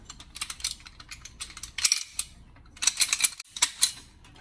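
Cutter snipping through plastic air line for a T fitting during an Air Lift 5000 Ultimate air bag install on a 2018 Ford F250, heard as a few clustered crisp clicks and crunches, close and moderately loud.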